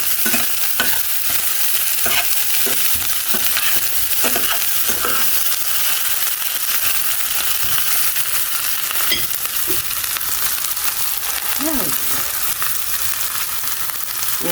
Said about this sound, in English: The reason why I burn the garlic is to get our roasted garlic